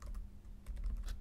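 Quick, soft keystrokes on a computer keyboard tap in an irregular run, close and fairly quiet, with no voices.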